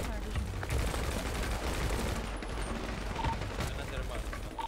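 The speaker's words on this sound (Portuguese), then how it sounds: "Aí, ó, cuidado, olha o tiro." Gunfire in a GTA 5 roleplay shootout, with a few sharp shots rising over steady game noise and a busy background bed while players talk throughout.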